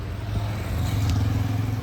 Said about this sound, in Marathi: आणि हे आपला स्टार्टर आहे, त्याच्याने स्टार्ट होती गाडी